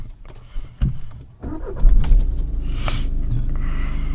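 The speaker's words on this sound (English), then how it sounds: "Can you switch the car on?" Keys jingle before a car's engine starts, cranking briefly and then settling into a steady, close idle.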